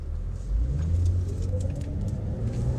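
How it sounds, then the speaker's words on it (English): A car pulls up alongside on the road, its engine rumbling low and close and swelling slightly as it draws level, then holding a steady drone with no voices. "I hate when these cars pull up right next to me"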